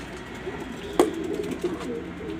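A pigeon coos softly, a short throaty call with one sharp click or flap in the middle, close by against a steady hum.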